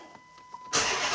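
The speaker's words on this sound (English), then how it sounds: "So let's start the vehicle up and see exactly what's going on." A 2006 Dodge Charger with a 5.7L engine cranks and catches, jumping from quiet to a loud, steady roar that carries on at close range; the car has stalling and surging problems.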